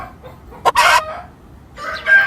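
Chickens in a radio drama: a sharp, loud rooster crow breaks out, followed by a pause and then clucking calls, all close and with no voices.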